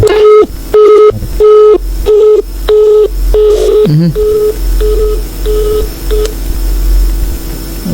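A phone call is dialed with a rapid series of loud, evenly spaced keypad tones. A steady run of network tones follows, marking the busy line.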